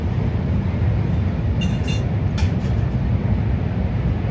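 A train rumbles across a bridge at Prakasam Barrage in Vijayawada, a heavy low continuous roar with faint high squeals over it, steady and close throughout.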